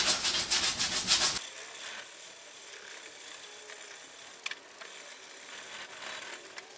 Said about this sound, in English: we're going to rub this area down with a bit of 120 grit sandpaper